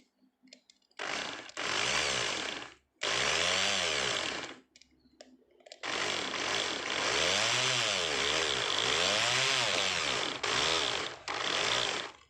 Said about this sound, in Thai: เราก็ ใช้ดอกสว่านเจดีเจาะเข้าไปเลยนะครับ